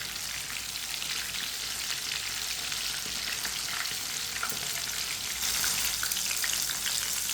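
Chicken pieces fry in hot oil in a pan, a loud continuous sizzle and crackle with a dense, spattering texture that swells slightly near the end, no voices present.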